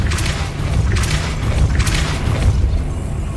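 A Depulso force spell goes off in the video game Hogwarts Legacy, sounding as three rhythmic booming whooshes spaced about a second apart over a low rumbling game background.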